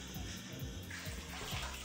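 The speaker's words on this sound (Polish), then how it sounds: "Po nałożeniu maski dokładnie ją spłukujemy, aby preparat nie został na włosach" Running water rinses a hair mask out of hair, a soft continuous splashing flow like a shower or tap, fairly quiet and steady.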